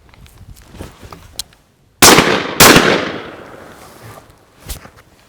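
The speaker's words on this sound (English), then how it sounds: "All right, I'll shoot 2 more rounds." Two sharp, loud shotgun blasts from a Beretta 686 over-under ring out close together outdoors, each followed by a long fading echo, with faint handling noises before and after.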